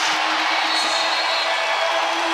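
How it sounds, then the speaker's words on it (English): A basketball arena crowd at a West Virginia vs UCF game cheering a dunk, a dense, steady roar filling the hall for a couple of seconds. "You hear the crowd"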